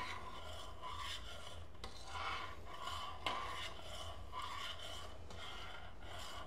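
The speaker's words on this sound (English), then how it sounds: "Stir it for about a minute or two slowly." A spoon stirs thick homemade sweetened condensed milk slowly in a pan off the heat, making soft, steady scraping and rubbing strokes in an even rhythm, close and quiet, with no talking.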